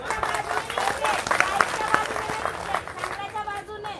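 Crowd at a protest gathering in Nashik breaks into applause, a dense wash of many hands clapping steadily for several seconds with voices and shouts mixed through it.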